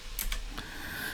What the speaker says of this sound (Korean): 키보드에 한영키를 누른 상태에서